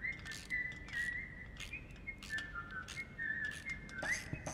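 Someone whistles a wandering, tuneful melody of sustained and sliding notes in the horror game Baby in Yellow, fairly soft and close, over faint background knocks and taps with no speech.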